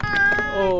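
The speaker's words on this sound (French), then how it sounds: "On essaye de faire mettre le chat sur la planche." A cat gives a drawn-out, wavering meow up close as it is coaxed onto a board, a single plaintive cry with no talk over it.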